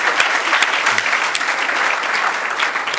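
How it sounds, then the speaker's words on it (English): An audience at a keynote speech event applauds in continuous, dense, even clapping that fills the room from start to finish. "Let's give Ms. Eddens another round of applause for a great"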